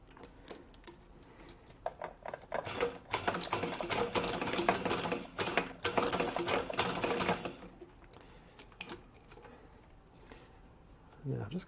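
A sewing machine stitches through a leather belt in rapid mechanical bursts with a clattering rhythm, pausing between runs, while someone talks intermittently around the stitching.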